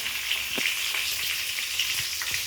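Mustard seeds, curry leaves and two crushed garlic cloves sautéing in hot oil: a continuous close crackling sizzle with scattered small pops and light stirring.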